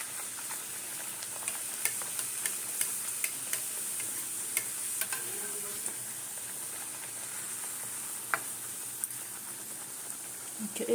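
Small palm-fruit luchi fry in hot oil, giving a steady soft sizzle with scattered sharp pops and crackles throughout, fairly close and without talk.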